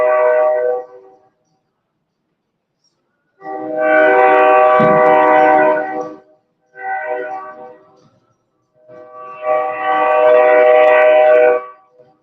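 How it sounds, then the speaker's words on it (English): A train's horn blares in four loud, near blasts, short and long in turn, with brief gaps of silence between them and no talking. "That damn train ain't playing right now."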